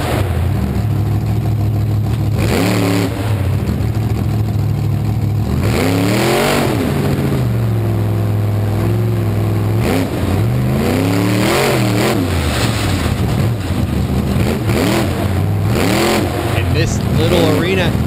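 A monster truck engine revs in a small arena with a slippery concrete floor during a car-crushing freestyle at the Monster Truck Nationals in Corbin, Kentucky. The roar is loud and continuous, climbing and falling with repeated throttle bursts.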